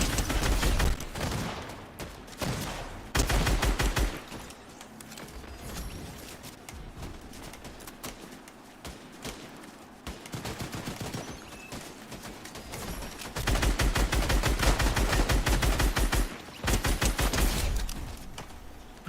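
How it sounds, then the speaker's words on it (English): Assault rifle fire in a shooter video game comes in several bursts of rapid shots between quieter stretches, the loudest volleys near the end, with no one talking. "The Sky's assault rifle just sounds serious."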